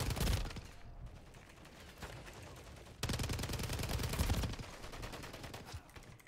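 Rapid video game gunfire from a newly picked weapon, sustained bursts of crackling automatic shots in two stretches with a brief lull between, fairly quiet in the mix.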